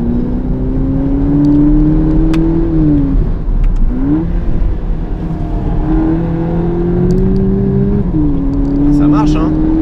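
A 2022 VW Polo GTI with a 207 hp engine accelerates hard, its engine note climbing in steady rising sweeps, dipping briefly at each gear change, loud and continuous from inside the car with occasional faint voices.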